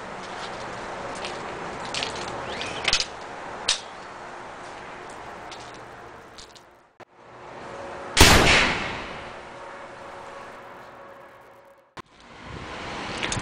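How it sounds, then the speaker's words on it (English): A Beeman Weihrauch HW97K .177 spring-piston air rifle fires a pellet with one sharp, loud crack, set among quieter clicks and handling knocks before and after. "so we'll close the cocking rod and take our first shot"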